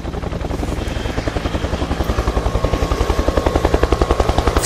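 A helicopter taking off, its rotor thumping steadily and loudly, the beat growing stronger and more distinct as the engine spins up, with no voices.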